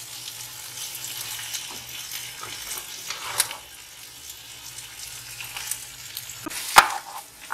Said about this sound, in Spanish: Lo dejamos aquí hasta que se sofría.